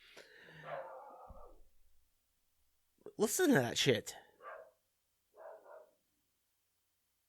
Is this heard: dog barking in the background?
yes